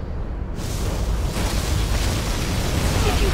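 A particle cannon blast in the Command & Conquer Generals video game, a loud, sustained roaring explosion with a deep rumbling low end and hissing wash that swells and persists steadily throughout.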